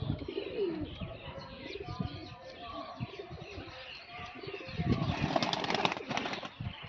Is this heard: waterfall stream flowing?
no